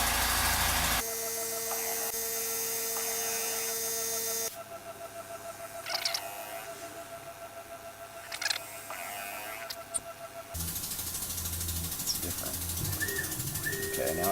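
A machine faces a metal gift coin with a steady loud mechanical hum and cutting noise. The sound shifts in level partway through and grows louder again near the end, with a few knocks in between.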